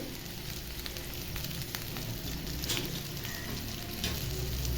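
Vegetables sizzle and crackle steadily in hot oil in a pan for a light rohu fish curry. The frying sound is continuous and close, with occasional stirring scrapes.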